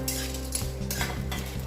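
Coriander powder roasting in a pan for panjiri is stirred steadily, a spoon scraping the pan repeatedly over a constant soft sizzle, close and with no talk.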